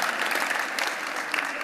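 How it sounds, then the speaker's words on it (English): Brisk, dense audience applause as a speaker is invited onto the stage, a steady full clatter of many hands with a few sharper claps poking through. "Thank you, big round of applause."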